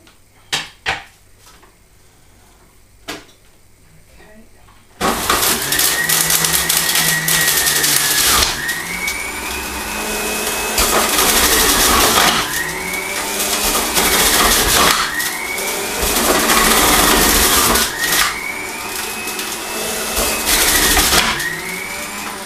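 Carrots being fed through an electric juicer, a loud steady motor whine with rhythmic grinding surges as each piece hits the blades, preceded by a few sharp clanks of the machine being moved.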